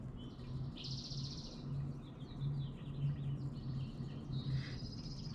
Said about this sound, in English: Birds chirping, sun's on my face,